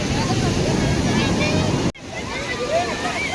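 Sea waves wash in at the Mahim shore in Mumbai with a loud, continuous roaring rush and wind buffeting the microphone. The sound cuts out briefly partway through, and voices can be heard faintly in the background.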